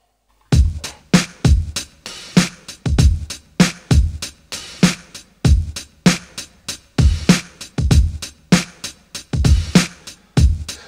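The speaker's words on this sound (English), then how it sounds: "So the final drums sound like this." Drums from a finished hip-hop track, a steady punchy beat of kick hits and a crunchy, bright snare repeating in a regular groove, loud and alone throughout.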